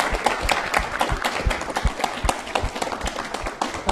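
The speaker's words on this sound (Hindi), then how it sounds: "इस भावना के लिए आशीष जी के लिए जोरदार तालियां।" Loud audience applause for Ashish ji at a televised Q&A session, dense overlapping claps with a few sharper close hand strikes standing out.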